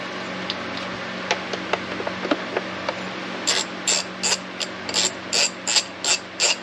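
A hand ratchet backs out the ignition coil bolts on a 2012 Impala 3.6 LFX engine. Faint scattered clicks come first, then a loud, close run of rapid pawl clicks in short regular bursts.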